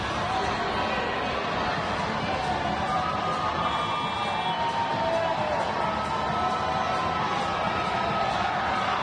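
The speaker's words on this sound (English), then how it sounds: "Crowd getting involved, making some noise." Crowd at a women's international basketball qualifier, Great Britain against Israel, cheering and making noise in an arena: a steady, dense roar of voices and shouts that holds throughout, with commentary likely mixed in beneath.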